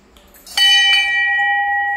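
A temple bell is struck twice in quick succession, close by. Its bright metallic tone rings on and sustains.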